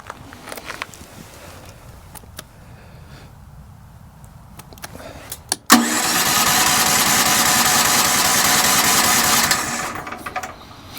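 A Predator 13000 generator running on propane on a patio fires up with a sharp start, then settles into a loud, steady engine roar that holds for several seconds before easing off near the end, with no talk over it.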